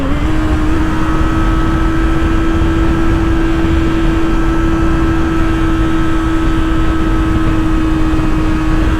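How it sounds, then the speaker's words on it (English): A 2024 Kawasaki ZX-6R 636 motorcycle cruising on a highway, its engine a loud, steady droning hum under heavy rushing wind, holding an even pitch throughout with no clear gear change. "I'm gonna downshift."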